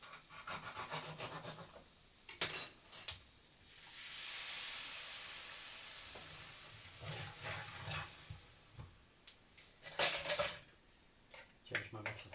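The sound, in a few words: metal spoon clattering in pot while adding coconut milk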